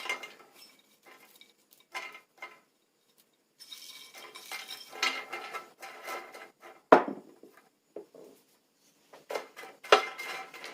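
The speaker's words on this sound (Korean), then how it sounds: "약한 불에 살살 볶을게요" Cocklebur herb stir-roasted in a pan over low heat, with dry scraping and rustling of the spatula against the pan in irregular strokes and short pauses, close and fairly quiet, no talking.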